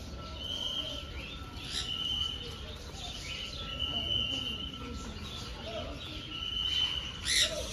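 A sun conure parrot gives sharp, high calls in an aviary at Shilparamam, several bright squawks spaced over a few seconds above constant background hum and chatter.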